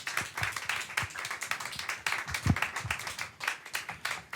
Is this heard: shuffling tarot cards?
no